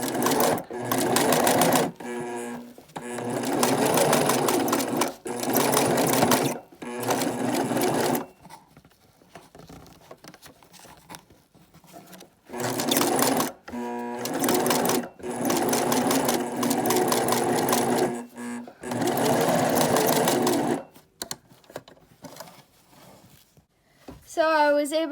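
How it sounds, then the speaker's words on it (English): Sewing machine stitching a homemade fabric face mask, running in several loud bursts of rapid mechanical whirring separated by pauses, with someone speaking between and over the runs. "I hold the 2 ends so that I know where I'm going to start sewing."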